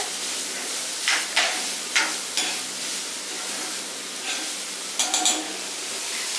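Onions tossed in a hot pan with a pinch of salt, sizzling steadily and loud, with repeated scraping stirs of a spoon across the pan and no talk over it.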